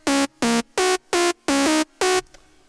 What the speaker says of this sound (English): one of the top kind of gritty lead sounds that will just help fill out the top line of your lead.